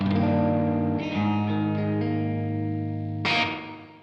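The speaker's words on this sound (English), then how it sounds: "At the moment I've got a slapback delay on this track." Sustained distorted electric guitar chords with a quick slapback delay echo trailing each note, ending on a brighter struck chord that fades out.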